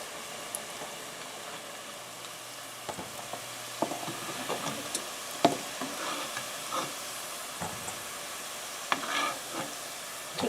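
Struffoli dough balls fry in very hot oil with a steady, quiet sizzle, broken by the odd clink and stir nearby.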